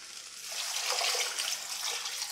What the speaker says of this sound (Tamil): நான் வந்து 1/2 கப் அளவுக்கு தண்ணி சேர்க்குறேன்